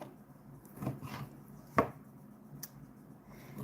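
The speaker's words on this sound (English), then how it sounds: "Just cutting up the turkey bacon right now." A knife chops turkey bacon on a cutting board in a few sparse, distinct strokes, one sharper and louder than the rest, set against a quiet kitchen.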